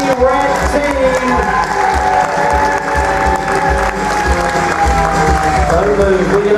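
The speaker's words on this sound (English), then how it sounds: "Can we have a huge round of applause for the red team?" Audience applause and cheering fill a cruise ship game show hall aboard the Carnival Breeze, a loud, steady crowd roar with sustained clapping and raised voices from start to finish, backed by music tones.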